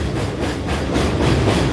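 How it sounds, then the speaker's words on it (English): A train passing near a river, loud rumbling rail noise with faint rhythmic clatter of wheels and a slight hiss, steady and close throughout with no talking. "Just waiting for the train to pass."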